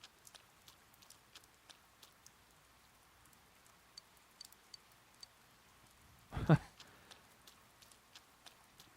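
Rain in the game Persona 4 Golden, faint steady patter with scattered light drips, briefly interrupted by a short louder thump.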